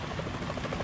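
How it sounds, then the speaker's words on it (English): A helicopter in the Metal Gear Solid 2 video game: a steady, dense rotor and engine drone with a faint chopping pulse, heard alone without speech. "Is that a chopper I just heard?"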